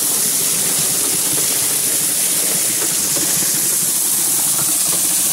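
Water from a spring-fed pipe rushes onto a water wheel and turns it, making a steady, close, unbroken splashing roar with no voices.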